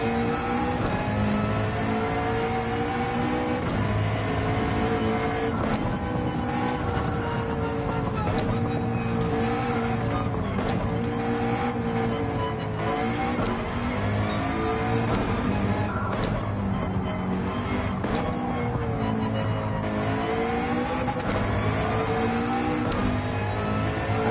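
A Toyota Supra engine in Gran Turismo 7 racing, revving steadily and loudly with shifting pitch and gear changes throughout, a continuous droning car engine with no talk.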